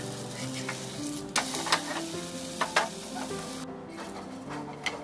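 Jowar flour ghavan pancake sizzles on a hot pan, a soft continuous frying hiss near the microphone broken by a few light scraping and clinking touches of a utensil.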